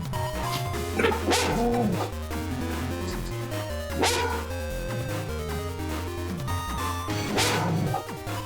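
A dog barks several times, a few sharp yips spaced over the clip, half-buried under busy music and game sounds.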